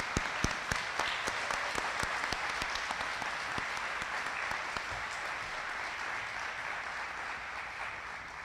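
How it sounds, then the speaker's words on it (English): Sustained applause from a large audience honoring educators at the Wellington Class of 2026 commencement ceremony, dense and steady clapping throughout with a few sharper nearby claps standing out, no talking over it. "So please take a moment to applaud our truly unparalleled Wellington educators."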